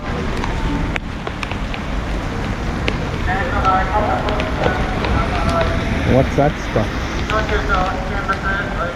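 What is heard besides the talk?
rain falling at a baseball stadium in Japan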